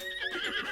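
A horse in Zelda: Breath of the Wild gives a short, high whinny, a quick wavering neigh heard close and clear, lasting under a second.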